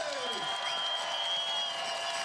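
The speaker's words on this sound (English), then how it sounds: "And a big applause" Applause for the winning German two-man bobsleigh crews at the BMW IBSF World Cup race in Königssee, a steady crowd clatter running throughout beneath a commentator's voice.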